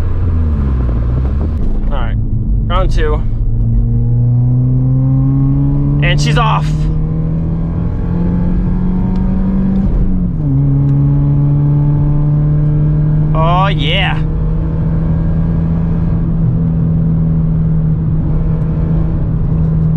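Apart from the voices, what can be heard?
Mk4 VW Bora wagon exhaust after muffler delete, driving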